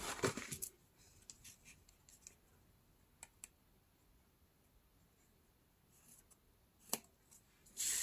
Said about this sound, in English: Now I'm gonna take my scissors